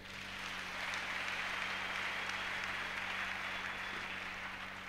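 Congregation in a church service applauding: a steady, dense wash of clapping that holds evenly for several seconds, heard from some distance in a reverberant hall.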